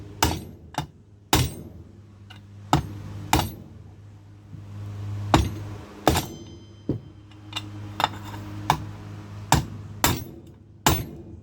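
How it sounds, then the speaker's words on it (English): Metal strikes metal while a bearing is driven and seated in a GE washer transmission: about a dozen sharp, ringing hammer blows at irregular intervals, close and loud, with brief metallic decay and no talking. "Once you're in, you'll hear it because it'll make a distinct tone,"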